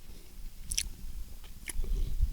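Close chewing and biting of food at a free campsite in George Washington National Forest, soft crunches and moist mouth sounds repeating over a couple of seconds with no talk.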